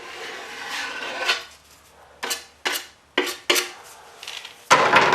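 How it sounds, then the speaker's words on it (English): Short scraping strokes of a putty knife clearing excess runs of filler or sealant during an interior modification job, about six separate rasping passes with quiet gaps between them. "take your putty knife, get rid of the excess runs"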